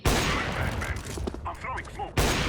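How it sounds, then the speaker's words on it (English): Rapid spam shots of gunfire in a competitive 5v5 shooter match, dense overlapping bursts across the whole moment, close and loud with a fresh volley at the end. "Taking some spam shots in the middle."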